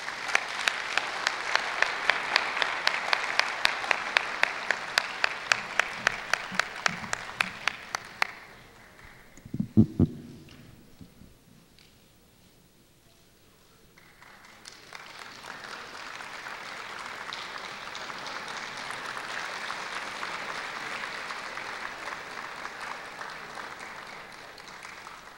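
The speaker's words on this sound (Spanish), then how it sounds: "Y los recibimos con un aplauso" An audience at an education event applauds children stepping onto a stage: a long burst of steady clapping fades, a few scattered thumps and a brief lull follow, then a second wave of applause swells back up.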